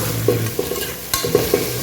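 Sliced onions and green chillies fry in a pan for a Tamil coconut-gravy dish, with a soft continuous sizzle broken by several close spoon-stirring scrapes and taps, with no voices.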